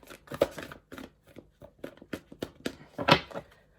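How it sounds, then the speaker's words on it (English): Tarot cards are shuffled up close in a series of quick riffling and sliding bursts, quiet and uneven, with no voice over them. "I may do shuffle a few more times and then select one."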